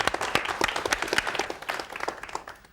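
Studio audience at a 1992 Polish TV game show applauding a rally driver guest, a dense burst of many hands clapping close and loud, gradually thinning toward the end.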